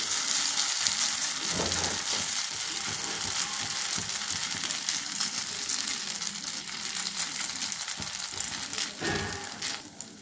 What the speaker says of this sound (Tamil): இப்போ இதில் நம்ம கலந்து வச்சுருக்க மாவை சேர்த்துடலாம். கலந்து வச்சுருக்க மாவை அப்படியே தட்டிப்போம்.